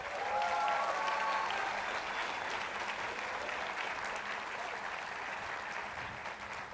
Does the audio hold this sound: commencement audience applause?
yes